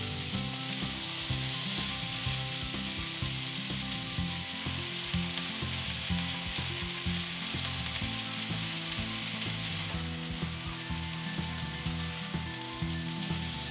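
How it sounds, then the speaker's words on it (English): Sliced onions sizzle and fry in an okra and potato spice mix, a steady close crackle with occasional stirring scrapes throughout and no talking. "We're going to add in the sliced onions and give it a quick mix so that the onions get coated with the"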